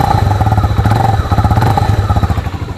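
A Modenas Z15GT motorcycle engine idles close by with a throbbing, slightly uneven exhaust rhythm and a faint mechanical clatter.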